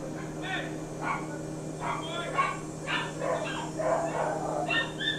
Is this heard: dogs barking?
yes